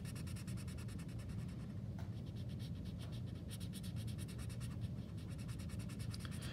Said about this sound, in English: We're just going to keep coloring.